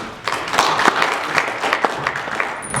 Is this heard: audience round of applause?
yes